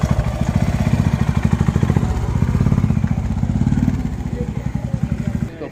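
Royal Enfield Himalayan single-cylinder engine running after carburetor tuning: a loud, close, rapid, even thumping beat that stays steady, then drops away at the end, with a voice faintly present underneath.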